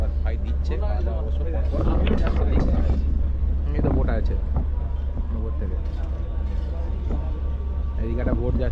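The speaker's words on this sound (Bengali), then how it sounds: "একটা বোট যাচ্ছে" In the Sundarbans, a boat engine rumbles steadily nearby on the river while people talk over it, with wind buffeting the microphone.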